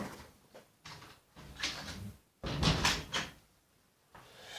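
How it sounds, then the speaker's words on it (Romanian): Door in the Minecraft video game being worked, several wooden clunks and thuds of varying loudness spread over a few seconds, no talking over them. "Stați un pic să închid ușa."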